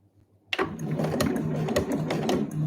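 A sewing machine backstitches through a convenience-store eco bag, starting abruptly after near silence and running as a steady, close mechanical whir with a rapid rhythmic needle chatter throughout.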